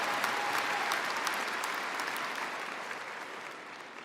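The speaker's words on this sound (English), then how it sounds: "It's a big round of applause for those guys." A large crowd applauds at a graduate programs ceremony, a continuous wash of clapping that stays even and full, easing slightly in volume over the last second or two.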